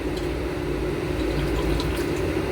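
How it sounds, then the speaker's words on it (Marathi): Tripe (vajadi) is washed in water, a constant, fairly loud rush and slosh of running water with no voices. "परत आपण ह्याला अजून एकदा धुवून काढणार आहे. काळं काळं पाणी निघतंय."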